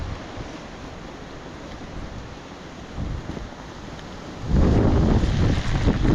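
A gust of wind and rain sweeps across a footpath near Gayle waterfall, a steady blustery rush that swells into a loud roaring buffet against the microphone in the last seconds.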